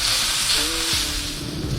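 Peppers and onions sizzle steadily in oil on a griddle for a pepper steak sandwich, a loud, close, continuous hiss with a brief tonal squeal partway through.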